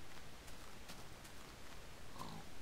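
Pig grunting and oinking in the Minecraft video game, a few soft brief grunts over a steady noisy background, faint and somewhat masked.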